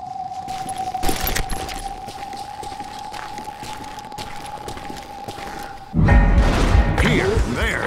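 Gunfire in a Wild West video game as a shooter fires from a rooftop: a sustained hum runs under sharp shot bursts, with a louder clatter of shots and impacts near the end over faint game talk.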